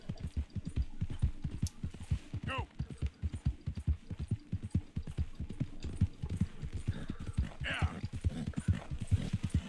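Horse hooves clip-clopping in Red Dead Redemption 2, a steady fast rhythmic gallop of many close, distinct beats, with occasional snorts and someone talking over it.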